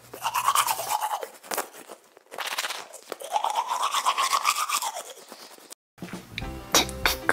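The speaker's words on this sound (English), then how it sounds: "Now it's time to brush my teeth." A toothbrush scrubs in a children's doll-play morning routine, with quick scratchy brushing strokes running in bursts, close and moderately loud, then a short pause before a different clattering sound at the end.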